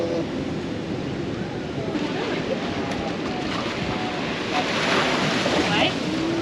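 Ocean waves wash up onto a beach in a steady broadband roar, with wind buffeting the microphone and people talking faintly nearby.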